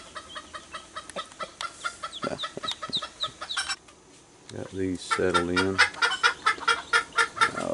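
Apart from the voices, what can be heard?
chickens clucking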